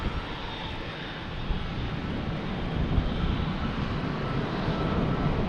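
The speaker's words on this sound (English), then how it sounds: "It's got runway 9 clear for takeoff, not runway 15. And that would be a Delta heading to Cleveland." A Delta jet airliner takes off from runway 9 at Logan Airport, a broad steady engine roar that builds slightly in loudness over several seconds, heard from a distance with no talk.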